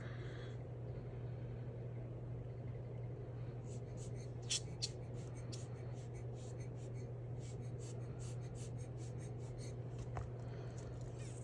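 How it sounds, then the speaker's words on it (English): A paper towel dabs and lifts alcohol ink off paper, giving soft, faint rubbing taps in a loose cluster midway through, over a steady low hum. "I'm gonna grab a little paper towel and just lift some of that off"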